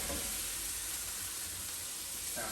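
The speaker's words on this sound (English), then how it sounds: "You really want it to sizzle hot," Beef strips sizzle in a very hot pan for a quick fry before going into a satay with noodles, giving a steady, loud, bright hiss with a stir near the end and no talk.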